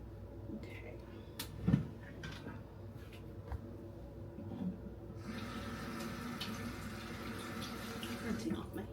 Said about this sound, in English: Rinsing off my hands real quick.